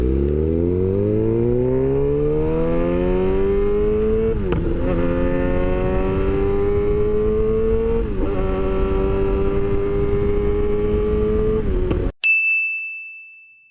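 A motorcycle engine climbs in pitch through a run of smooth upshifts, each marked by a brief dip, before cutting off abruptly with a short ring.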